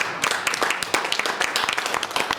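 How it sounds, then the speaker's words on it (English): An audience at a State Board of Education District 1 event gives a brief, dense round of clapping, steady and fairly close, with little else beneath it. "give them a round of applause"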